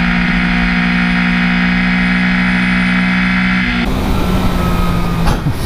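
A sport motorcycle's engine (Triumph Street Triple RS, Yamaha MT-09 SP or MV Agusta Brutale 800 RR) runs loud and close with a steady throaty drone, then shifts into rougher wind-buffeted riding noise near the end.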